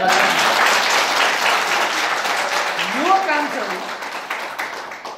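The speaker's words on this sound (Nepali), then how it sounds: "एउटा ताली बजाएर भन्नु।" A church congregation breaks into sustained applause, dense and steady throughout, with a voice speaking over it midway.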